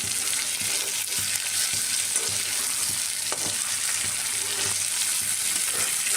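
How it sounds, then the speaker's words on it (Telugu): Marinated dried sea snails fry in a pan with a loud, steady, dense sizzle that stays constant throughout, with faint stirring taps underneath. No voices are present. "ఇదిగోండి ఎండినత్తలు మ్యారినేట్ చేసింది. ఇప్పుడు ఇది ఫ్రై చేస్తున్నాను."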